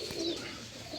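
A large, roughly eight-year-old Sheikhupuria pigeon gives a brief low coo, close and clear over a quiet rooftop background.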